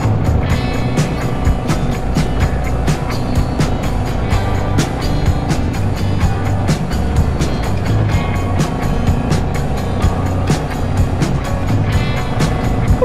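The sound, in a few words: motorcycles at the Brighton Burn Up rally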